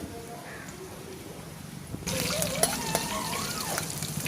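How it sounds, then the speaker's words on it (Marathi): Peeled garlic cloves dropped into hot tempering oil, a quiet background hum that suddenly gives way to a bright, continuous sizzle and crackle from about halfway, close by with no talking. "5 ते 6 पाकळ्यालाच ना सोलले आहे आणि त्या पण टाकते याच्यात फोडणीला."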